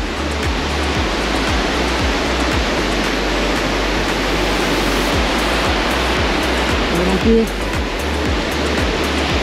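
Devil's Punchbowl waterfall at Arthur's Pass roars as a steady, loud, dense rush of falling water that fills the scene throughout, with a brief spoken syllable near the end.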